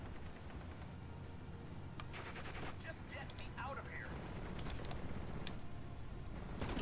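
Scattered gunshots and short rattling bursts from the Steel Division strategy game, faint and somewhat distant over a low rumbling battlefield background.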